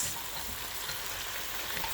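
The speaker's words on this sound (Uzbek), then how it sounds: "Ozgina qovuramiz." Meat sizzles steadily in a pan for a zharkoye meat and potato dish, a dense, even crackling hiss with no voices, continuous and fairly quiet throughout.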